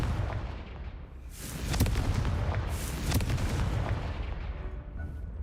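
The Confringo fire spell exploding in the video game Hogwarts Legacy, a deep rumbling blast that swells into two sharp cracking bursts with a crackling fiery tail, loud and close over a low background rumble.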